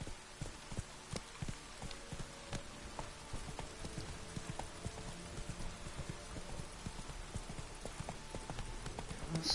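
Roach, a horse in The Witcher 3, gallops with steady, rhythmic hoofbeats that stay close and even throughout, with faint background ambience behind them.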